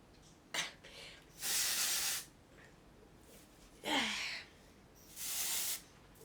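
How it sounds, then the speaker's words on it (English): Several close bursts of aerosol spray hiss out, one short puff followed by three longer sprays separated by pauses. "Okay, I will eventually spray you."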